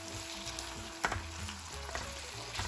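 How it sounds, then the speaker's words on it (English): Bacon fries in a pan with a steady, close sizzle and crackle, broken by a few sharper pops and light scraping stirs. "So right now I am using it to cook up some bacon"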